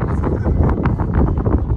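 Wind buffets the microphone on an open hill trek path, a steady low rumbling roar that fills the whole short stretch with no talk over it.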